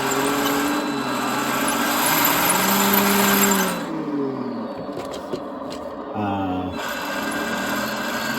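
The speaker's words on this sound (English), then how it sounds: "So just confirming that it will drive these motors. This is forward. You get varying speeds." Electric drive motors of a 1/9 scale Abrams RC tank with a Heng Long TK-7.0 controller run forward, a close steady whine that rises and falls in pitch as the speed changes, then briefly cuts out and starts again.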